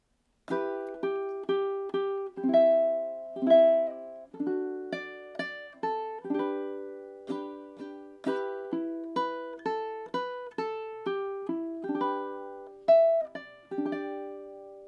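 Ukulele strumming a steady chord progression, bright plucked chords repeating in an even rhythm, close and clear with no voices.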